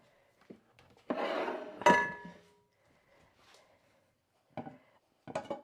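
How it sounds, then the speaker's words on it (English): A cooking pan with handles is lifted and set away in a kitchen, with a scraping clatter, a bright metallic clank, then a few lighter knocks and clinks of cookware against a counter, close and otherwise quiet. "And get rid of that pan."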